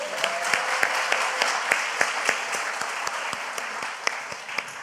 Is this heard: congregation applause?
yes